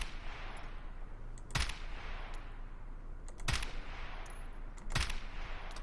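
M4 rifle fire in Escape from Tarkov through a 4x scope, three sharp single shots spaced about two seconds apart over a quiet ambient background, with faint clicks between them.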